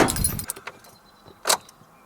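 Keys jangle and click close by as an old car with a completely dead battery fails to start, followed by a few faint clicks and a short rattle, with no engine catching.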